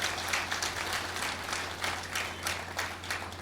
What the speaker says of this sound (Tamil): அந்த கலைஞர்களுக்கு ஒரு கைதட்டு கொடுங்க